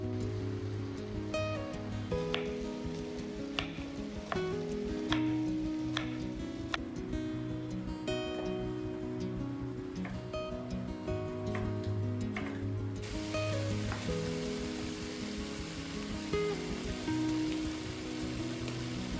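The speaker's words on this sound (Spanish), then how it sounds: "Mientras se sofríe la carne, voy a ir preparando las verduras." Meat sizzling in a pan while it is browned for a sofrito, a steady crackling hiss with frequent small pops that runs the whole time without talk.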